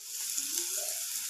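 Turmeric and garam masala tempering sizzles in a hot pan, a steady bright crackling hiss heard close up with a brief stirring scrape in the middle and no talking.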